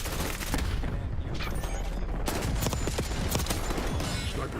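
Rapid gunfire in Call of Duty Black Ops 6, dense continuous bursts of automatic shots and cracks filling the whole stretch, loud and near, with brief voice chatter mixed in.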